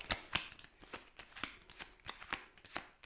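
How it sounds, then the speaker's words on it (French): A small deck of six cards for the board game Narak is shuffled by hand, giving a quick run of crisp riffling flicks, close and fairly quiet, with no talking. "Tous les joueurs ont le même deck de 6 cartes pour démarrer. Vous le prenez, vous le mélangez,"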